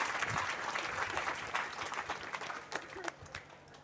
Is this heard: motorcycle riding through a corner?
no